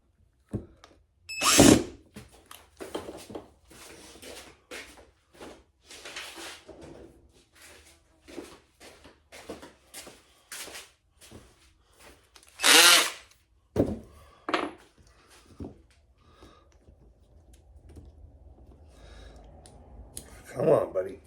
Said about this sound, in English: I'm gonna have to get a longer drill bit